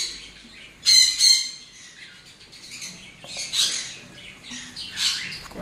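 A frightened pet bird squawks in its cage, with a sharp burst of harsh calls near the start followed by several more scattered squawks and chirps, close and fairly loud.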